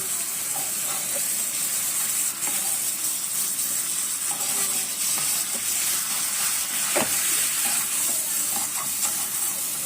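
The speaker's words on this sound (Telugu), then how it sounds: "హైలో పెట్టుకొని మంచిగా వేయించుకోవాలండి" Turmeric and spices fry in a pan on high heat for green chilli chicken curry, giving a steady, close sizzle that runs without a break, with faint scrapes of stirring now and then and no talking.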